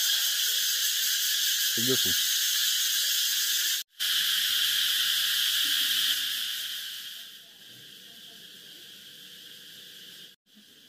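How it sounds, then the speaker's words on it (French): Dense, high buzzing of cicadas in Phù Long, Vietnam fills the background continuously, with a short low croak early on and a brief voice near the end. "T'entends le bruit des cigales?"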